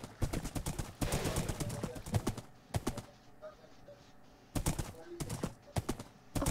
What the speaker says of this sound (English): there's faster horses and slower horses in the game